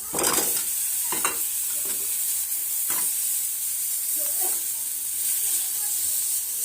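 Peeled potatoes are mixed into a sizzling vada pav filling in a pan, a loud steady hiss of frying with several brisk stirring scrapes close by.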